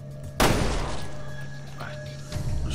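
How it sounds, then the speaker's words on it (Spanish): A single sharp gunshot from the video game Resident Evil Revelations 2, with a loud crack and a decaying tail. Game background hum runs under it, and a softer thud follows near the end. "Barry, un disparo"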